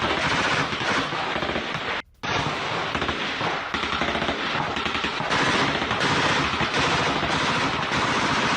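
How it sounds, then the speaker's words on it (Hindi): Soldiers on the front line at the Thailand–Cambodia border fire in dense, rapid bursts of automatic gunfire, loud and continuous with a brief break near the middle. "फ्रंट लाइन पर थाईलैंड के सैनिकों की फायरिंग।"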